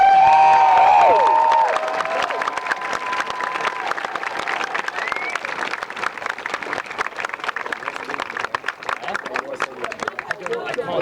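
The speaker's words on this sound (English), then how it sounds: "if you could just do one big round of applause for all those people who I've thanked" Audience applause at a quidditch World Cup closing ceremony, a broad crowd clapping that starts loud and settles into steady sustained clapping with scattered cheers for the full stretch.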